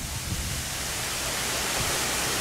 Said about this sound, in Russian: Искусственный водопад.